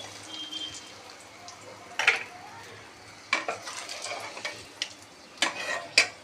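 Fish and eggs fry in a pan, a soft background sizzle broken by sharp clinks and scrapes of a utensil stirring against the pan at irregular intervals.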